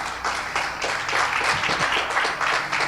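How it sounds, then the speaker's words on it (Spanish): A church congregation gives a lively round of applause during a Sunday service, rhythmic clapping that stays loud and steady throughout. "Denle un aplauso a Jesús."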